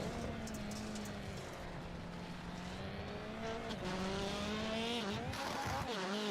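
Rallycross Lites cars racing through turn 1 at a NASA Rallycross event, engines droning and rising in pitch as several cars pass close together, loud and continuous with a brief tire scrub near the end.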